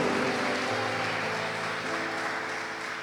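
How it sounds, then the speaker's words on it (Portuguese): A congregation applauds during an evening church service: dense, steady clapping fills the whole stretch at a constant level, with a little cheering or voices mixed in. "Quem é que pode dar uma salva de palmas para o Senhor nessa noite?"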